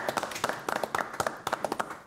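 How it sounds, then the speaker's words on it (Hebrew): Brief applause plays at a Shabbat gathering: a dense patter of close hand claps, fairly quiet and steady, lasting about two seconds. "אנחנו ניתן לו מחיאות כפיים"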